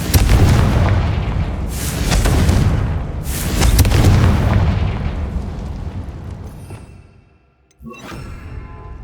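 Confringo fire-blast spell in Hogwarts Legacy, a series of three heavy booming explosions in quick succession that rumble and die away to near silence, then a sharp burst and lingering ringing tone.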